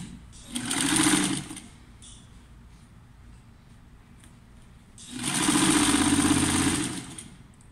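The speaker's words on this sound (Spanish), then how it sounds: "Y me voy sobre la misma costura que ya hice." Sewing machine stitching over an existing seam on tecnocrepé dress fabric, two loud sustained whirring runs of about one and two seconds separated by a quiet pause, close and alone with no talk.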